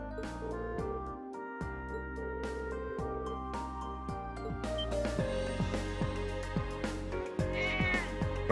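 A cat meowing repeatedly in the Trails of Cold Steel video game, clear recurring mews over a steady background game music track, no talking.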